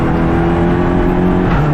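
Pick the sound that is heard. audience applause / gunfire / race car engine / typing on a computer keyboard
race car engine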